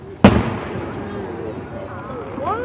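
A single loud firework burst at a 4th of July show in Chillicothe, then a long fading crackle with thin whistling streaks rising near the end, heard from a distance in open air.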